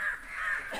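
A crow caws near a house in a single drawn-out, harsh call that lasts almost the whole moment, close and fairly loud, with no voices over it.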